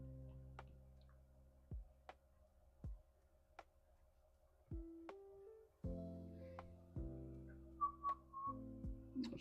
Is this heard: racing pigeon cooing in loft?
no